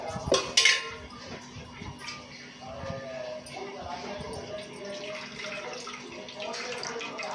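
Water being poured off paneer in a pot and the curds rinsed, with clattering of the vessel near the start, then steady splashing and running water under soft talk.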